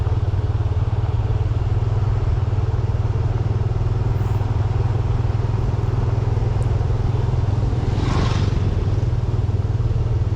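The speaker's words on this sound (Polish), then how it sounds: "I w ogóle ten motorek uważam, że ma bardzo fajne brzmienie." A Yamaha PG-1 motorcycle rides over potholed road with a constant loud engine drone and wind rush, and a brief rattling jolt near the end as it hits a hole.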